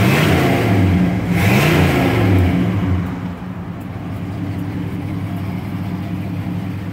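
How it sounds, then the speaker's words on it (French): Close-up 1970 Buick Skylark V8 with dual exhaust blipped a couple of times, the engine note rising and falling in two quick revs before settling back to a steady idle rumble. "On va le faire ronfler un petit peu."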